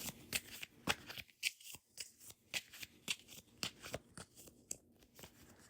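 Cards being shuffled up close, a rapid series of crisp riffling bursts and snaps in an uneven rhythm, with no talking.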